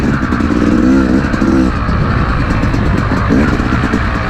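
Yamaha YZ250X dirt bike engine on a trail ride at Rampart Range, a loud continuous motor drone with a couple of brief revving swells, close up and without speech.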